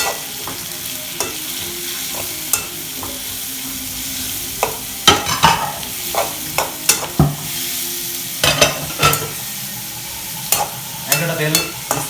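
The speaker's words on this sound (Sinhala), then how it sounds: "ඉතින් පොඩ්ඩක් හොඳට කවලම් කරනවා." Food with onions sizzling in a frying pan while being stirred and mixed, a continuous hiss broken by repeated close scraping and tapping strokes of a spoon against the pan.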